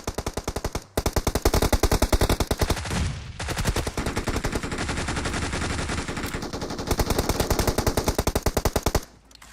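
Rapid automatic gunfire from a video game rattles in long, dense bursts. It breaks off in short gaps and sharp pauses, then resumes, close and loud throughout.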